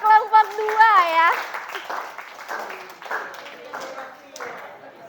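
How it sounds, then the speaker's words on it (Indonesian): A classroom of students claps for a student group during an open-class lesson, with short bursts of applause mixed with children's voices and talking throughout. "tepuk tangan untuk kelompok 2 ya"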